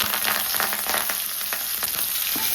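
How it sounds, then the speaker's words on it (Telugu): Steady, loud sizzling of onions and curry leaves frying in hot oil close up, with occasional crackles and stirring scrapes, no talking. "ఇప్పుడు ఉల్లిపాయలు కరివేపాకు"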